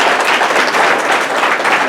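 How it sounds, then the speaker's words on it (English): Guests at a retirement party give Anita a loud, dense round of applause, with continuous clapping from many hands filling the short moment. "I need a round of applause for Anita"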